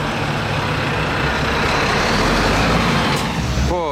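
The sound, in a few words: truck driving past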